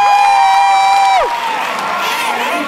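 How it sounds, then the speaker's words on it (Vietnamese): After a dance battle performance, an audience erupts. A long, loud, high whoop or shriek rings out close by and then drops away into a broad swell of cheering, clapping and excited voices. "vỗ tay cho Eric"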